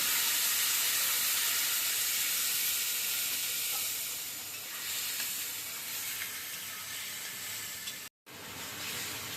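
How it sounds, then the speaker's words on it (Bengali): Onion, green chilli and ginger paste frying in oil in a pan, a steady, close hissing sizzle that softens and fluctuates as it cooks, with a brief cut to silence near the end and no voices. "মশলাটা এবার কষতে থাকে।"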